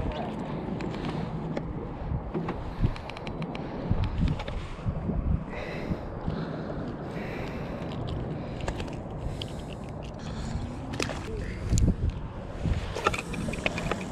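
Steady wind buffets a fishing boat drifting in open water near Leeville, Louisiana, a continuous broadband rush with occasional gusts and soft knocks, with faint voices in the background.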